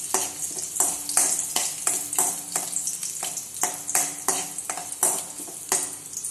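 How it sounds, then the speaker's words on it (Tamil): Chopped ginger and garlic fry in a pan for egg rice, a constant sizzle broken by rhythmic scraping stirs, close and moderately loud, with no talking. "இப்போ இதிலையே நான் வெட்டி வச்சுருக்கிற இஞ்சி பூண்டை போடணும். போட்டு லைட்டாக வறுத்துக்கலாம்."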